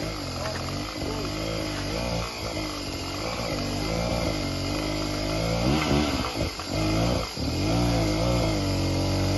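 A dirt bike motorcycle engine revs on a hard enduro trail, its pitch rising and falling in repeated bursts, loud and near throughout.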